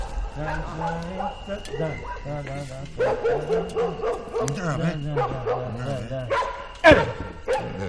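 Dogs bark and yip in short bursts, with some whimpering, mixed in among people talking over them.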